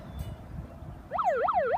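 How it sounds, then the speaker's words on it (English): A home alarm siren starts abruptly after a moment of quiet background, wailing up and down in a rapid, loud, repeating sweep. "It does have the alarm that I like, which is a siren."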